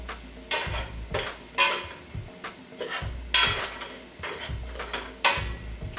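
Flour being stirred into a cheese sauce for an apple-sausage mac and cheese, heard as rhythmic spoon scrapes and thumps against a pot, repeating roughly every second over a low background hiss.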